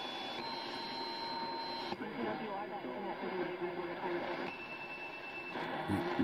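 A Tecsun PL-880 portable radio tuned to an AM station at 520 kHz gives faint, hissy broadcast audio with a weak voice buried in static and occasional whistling tones, steady throughout.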